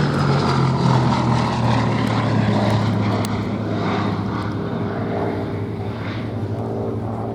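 A Gloster Gladiator biplane fighter flies at the Duxford air show, its radial engine and propeller droning loudly and continuously overhead, fading slightly as it passes.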